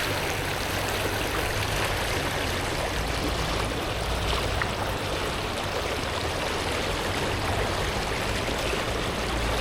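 Fast-flowing river water rushes steadily at the Algonquin Dam on the Fox River, a dense, continuous roar of current over the dam with no pauses, loud and close throughout.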